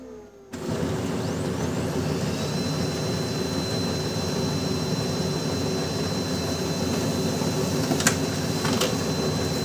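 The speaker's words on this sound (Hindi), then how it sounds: "यहाँ पर ब्लैंक पेज प्रिंट कर रहा हूँ।" A Brother HL-2320D laser printer printing a blank page starts up after a brief quiet moment, then runs as a steady whirring mechanical hum with a faint rising whine and a couple of small clicks near the end.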